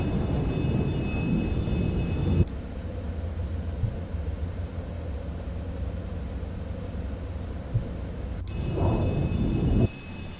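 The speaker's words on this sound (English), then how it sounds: "Sounds like a real plane," Steady broadband drone of an airplane engine in Microsoft Flight Simulator 2024, played on PS5, holding at an even level throughout with a brief change in tone near the end; no talking.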